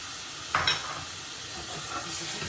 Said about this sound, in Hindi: फिर I add the mutton to it, और मटन को थोड़ी देर इसमें ज़रा डाल के भून दूँगी